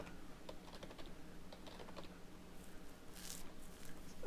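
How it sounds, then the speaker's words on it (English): Username and password typed on a computer keyboard at a Unix login, a steady run of soft, fairly quiet key taps over a low room hum, with no talking. "type in my name as the username and a super secret"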